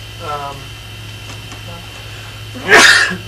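A single sharp sneeze near the end, loud and close, over a steady electrical hum with faint murmuring earlier.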